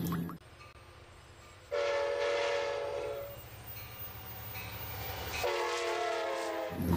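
A toy train sounds a horn in two bursts, with steady running noise and faint rhythmic clacking between them, recorded close with no talk.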